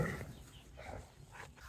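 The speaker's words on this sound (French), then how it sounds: "Pourquoi il met deux chiens qui s'engueulent derrière une barrière, ensemble, dans le même parc?" Two dogs quarrel behind a barrier at a dog boarding kennel, with a few low growls and short whiny vocal bursts, fairly faint and close.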